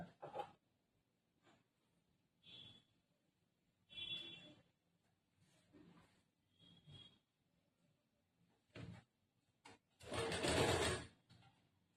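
A sewing machine stitches around folded blouse fabric in short, separate bursts with pauses between them, fairly quiet and close, ending in one longer, louder run.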